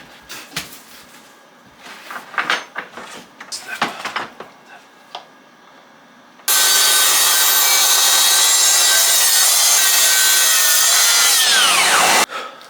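A power saw cuts through wood for a beehive-style compost bin, a loud steady whine lasting about six seconds, preceded by scattered knocks and shuffling of wood being positioned.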